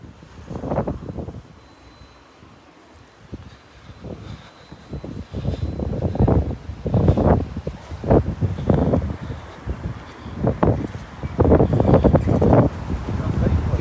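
Strong gusting wind buffets a microphone on Plymouth Hoe during Storm Francis, loud irregular rumbling surges near the mic, with faint distant talk at times.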